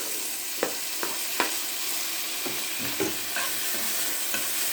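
Diced tomato cooking into an onion, green pepper and garlic mix for homemade pizza sauce: a continuous sizzle with several distinct stirring knocks and scrapes of a utensil in the pan.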